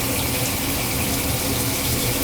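Red wine vinegar poured into a herb dressing seasoned with pepper and salt, a steady, continuous splashing stream that runs unbroken throughout with no talking.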